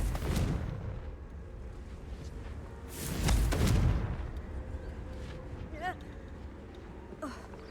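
Two booming spell explosions from the Confringo fire curse in Hogwarts Legacy, one at the start and a heavier blast partway through, with rumbling game sound and a faint voice in between.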